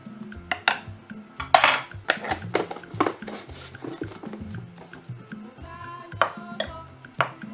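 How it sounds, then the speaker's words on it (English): A spoon works sugar and cornmeal together in a bowl, giving an irregular run of close clinks, scrapes and taps against the dish, some sharp and some soft, with no talking. "And then you mix it well."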